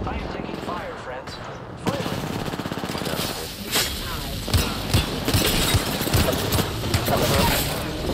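Video game gunfire crackles in rapid bursts and scattered shots amid a noisy battlefield din, with a voice talking over the action.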